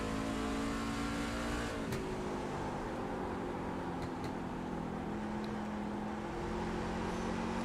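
Heard onboard, a Superleague short-track race truck's engine hums steadily on gentle throttle, with a sustained droning tone that shifts slightly in pitch and no voices over it.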